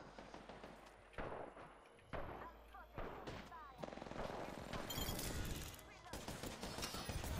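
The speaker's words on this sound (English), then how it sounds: "Dude, you're getting shot from every angle." Rapid gunfire from Apex Legends ranked match rings out in repeated bursts from several directions, loud and dense, with players talking over the shooting.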